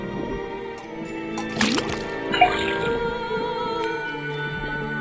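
A faucet in a swamp detective adventure game pours water with splashing and gurgling drips over a steady background music bed, with the water burst rising briefly in the middle.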